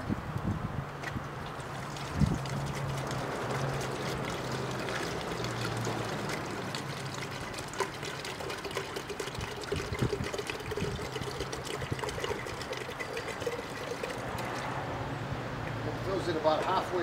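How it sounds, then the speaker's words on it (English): A gallon of water poured into a pan on a solar survival trailer, a steady continuous splashing trickle lasting throughout, moderately quiet. "let's start our experimenting by putting a gallon of water"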